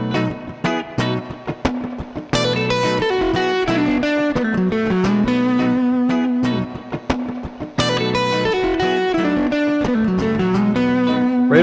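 A blues rock electric guitar lick played in the minor pentatonic box, a continuous run of bent and picked notes over about twelve seconds, close and steady in level, with no voices.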